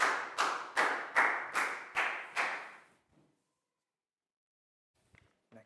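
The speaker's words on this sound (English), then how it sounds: "High five and a big round of applause for Prel" A Year 4 class claps for a student named Prel during a science lesson. Seven loud, evenly spaced claps land in unison in a quick rhythm, then the room falls silent.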